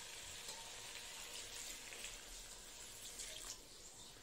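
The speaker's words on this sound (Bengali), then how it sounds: "এই যে একটু জল দিয়ে দিচ্ছি" Water is poured into a pan of onions frying after browning, giving a steady, dense hiss and sizzle that stays fairly even the whole time and softens a little near the end. No voices are heard.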